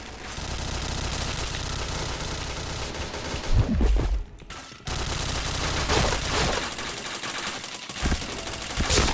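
Gunfire in the online shooter Point Blank: dense bursts of automatic weapon fire with single sharp shots, continuous and loud, broken by a brief drop and a short lull midway before the shooting resumes.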